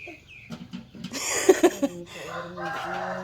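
A rooster crows close by at a rural home, one drawn-out call rising over quieter clucking and faint background voices.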